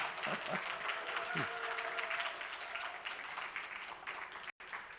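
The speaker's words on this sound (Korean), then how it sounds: "여러분 박수 한번 부탁드리겠습니다" Audience applause follows a talk about a regional tax accountant, a fairly quiet, steady clapping from a crowd with some voices underneath and a brief dropout near the end.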